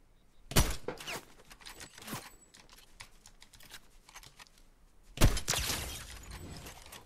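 Sniper rifle fired in a video game: a loud sharp crack with a ringing tail, a smaller report soon after, then another heavy blast later, with scattered clicks and faint rattling between.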